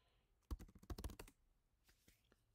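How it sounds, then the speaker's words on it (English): Quiet computer keyboard typing: a short burst of rapid key clicks, then a pause and a few scattered keystrokes, close and soft. "Type in the IP."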